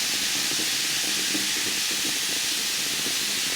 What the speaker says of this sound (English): it's certainly foaming and fizzing